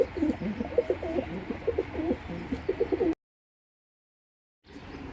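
Racing pigeons cooing in a loft, a dense run of rhythmic throaty coos, close and steady, broken by a sudden silent gap before quieter ambience returns.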